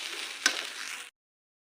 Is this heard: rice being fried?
yes